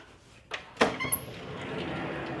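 Cabin veranda doors on the Celebrity Edge cruise ship are opened, giving a few sharp knocks and sliding clunks in quick succession followed by a low steady room hum, with no talking.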